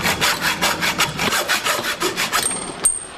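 Hacksaw cutting a router subbase clamped in a vise with a plastic guide shield, about a dozen rhythmic close rasping strokes, ending with a sharp metallic clink.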